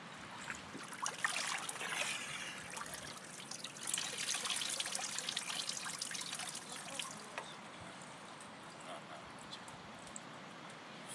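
Water trickles and patters steadily onto freshly planted plants in an outdoor garden, a soft continuous splashing with faint background hiss, quiet and close throughout.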